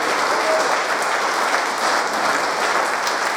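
Continuous, loud applause from a gathered congregation at a Friday fellowship service, thick and uniform clapping from many people that holds steady without breaks.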